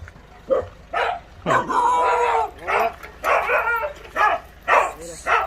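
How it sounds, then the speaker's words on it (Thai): Dog barking repeatedly at a farm where an older tractor is being bought, loud, close bursts in an irregular rhythm, with a person talking faintly in between. "ผมรู้แล้วมันเห่าทำไมพี่"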